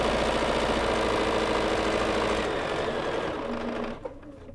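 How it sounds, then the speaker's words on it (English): A sewing machine stitches a diagonal line across fabric for a foundation paper pieced house block, running at a steady fast hum for about four seconds before slowing and stopping. "we're gonna go ahead and move to the sewing machine again. Okay. Put the needle down, and we're gonna stitch on that diagonal line."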